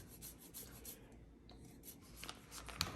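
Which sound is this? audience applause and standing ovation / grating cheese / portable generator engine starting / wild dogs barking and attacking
grating cheese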